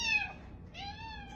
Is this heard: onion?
no